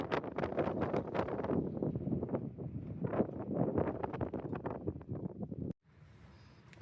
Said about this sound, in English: I feel like I'm back in quartzsite with this wind.